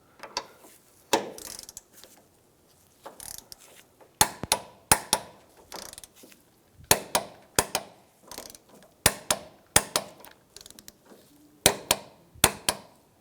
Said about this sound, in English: our top bolts, with our suspension under load, we're going to be torqued down to 40 foot-pounds